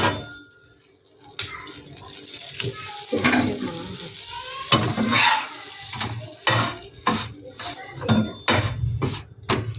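A paneer and potato sandwich fries in a little butter on a pan, sizzling softly while a spatula clinks and scrapes at intervals, with a brief background voice.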